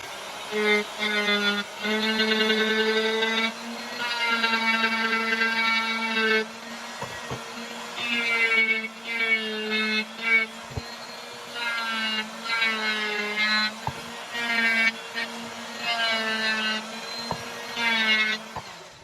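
A handheld rotary tool with an abrasive bit whines at a high, steady pitch while grinding an axe, running in long loud bursts that dip and surge as the bit bites into the metal, with short pauses between passes.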